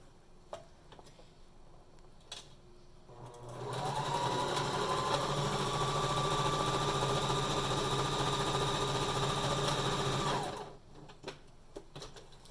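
A sewing machine stitches a fabric face mask, its steady motor hum and rapid needle rattle running continuously for about seven seconds before stopping, with quiet handling noises on either side.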